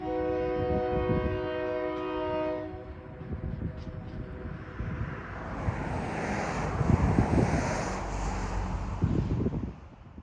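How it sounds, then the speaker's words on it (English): A train passing Patrick Lumber Mill, opening with a loud sustained horn blast, then a rumbling, clattering roll of wheels past the microphone with heavy wind noise. "The train is currently passing Patrick Lumber Mill"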